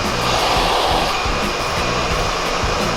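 A hair dryer blows hot air steadily at close range while men's hair is styled, a loud continuous rushing whoosh with no pauses and no talking.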